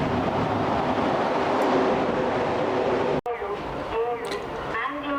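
The Kanyakumari–KSR Bengaluru Express passenger train rumbles past close by at Bangalore Cantonment with dense, roaring noise that cuts off abruptly, leaving quieter clattering and distant rail sounds.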